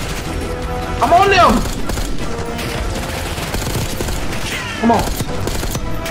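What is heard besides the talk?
gunfire in the video game Call of Duty Black Ops 6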